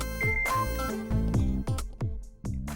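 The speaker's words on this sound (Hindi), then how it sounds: "अभी ये टाइम किसने फोन किया होगा?" A phone ringtone for an incoming late-night call plays as a bright, repeating melodic tune of short notes, loud and close, with no talking over it.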